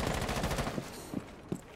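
Rapid automatic gunfire in Rainbow Six Siege, a fast burst of shots followed by a few spaced single cracks, fairly close and loud.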